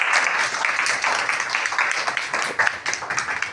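A class of young students claps for a classmate who answered a spelling question correctly, a dense, steady patter of many hands filling the room for a few seconds.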